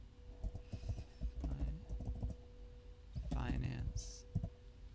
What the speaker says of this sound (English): then you can just type in the search bar